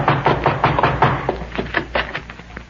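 Hard fist knocks on a door in a 1951 radio comedy, a rapid series of loud close thumps in uneven bursts, repeating insistently throughout.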